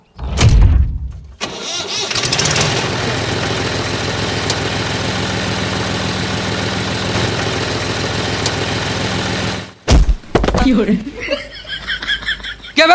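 A tractor engine cranks and catches, then runs in a steady loud rumble for several seconds before cutting off, followed by people talking and laughing nearby.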